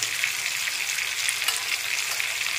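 Chilli chicken being stirred and mixed with spices and ground pepper in a pan, a dense, close frying sizzle with soft scraping under it, steady and unbroken, with no voices.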